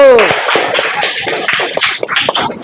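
Classroom clapping for a student group, a short burst of hands clapping close by that starts after a brief voice and thins out with some shuffling and taps.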